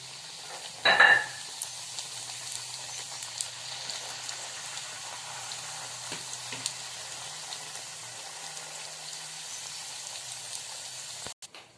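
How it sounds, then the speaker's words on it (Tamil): Pani puri discs fry in hot oil on a moderate flame, starting with a brief louder splash-like burst and then settling into a soft, steady bubbling sizzle, quiet and close, with no voices. "எண்ணெயில் போட்டு பொரிச்சு எடுத்துக்கலாங்க."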